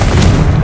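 The Confringo explosive spell going off in Hogwarts Legacy, a single loud, deep, booming blast that fills the moment at close range.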